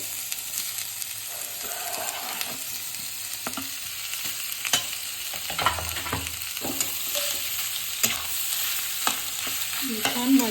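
Cut potatoes sizzle and crackle in hot oil in a pan while being stirred, a steady close frying hiss broken by scraping and clinking of the spoon.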